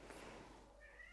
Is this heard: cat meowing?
yes